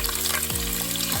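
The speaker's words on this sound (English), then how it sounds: "Now we can add them to the hot pan." Chopped vegetables hit a hot pan for chicken cacciatore and fry with a loud, dense, continuous sizzle close up, with no speech.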